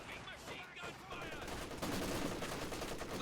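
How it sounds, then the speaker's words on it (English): MG34 and Maxim machine guns fire in a Company of Heroes 2 battle, a dense, continuous rattle of automatic gunfire that builds louder, mixed with other combat noise. "MG34 suppressing the conscripts while the Maxim suppresses the MG34"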